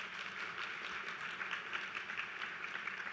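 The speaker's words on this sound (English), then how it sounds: "give yourselves a round of applause" A large audience applauds steadily, a dense, even wash of clapping that holds at the same level throughout with no voices on top.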